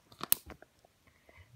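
Someone bites into fresh, sweet watermelon and chews it, giving a few crisp, wet crunches up close, followed by quieter chewing noises, with no talk.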